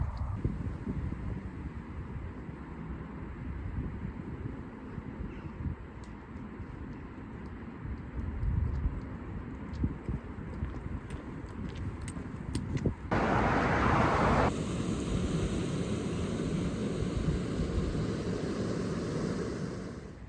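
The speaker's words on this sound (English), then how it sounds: "you may be able to hear the traffic by now" Steady road traffic from a nearby motorway heard from the South Downs countryside, a continuous broadband rush of passing vehicles with one louder swell as a vehicle goes by, no voices.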